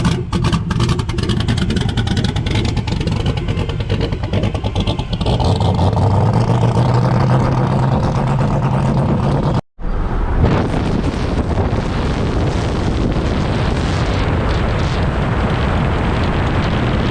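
Turbo LS-powered Ford F100 truck on its first test hit, a loud roaring engine rising under heavy wind buffeting, cutting out for an instant and then roaring on with a rough rasp.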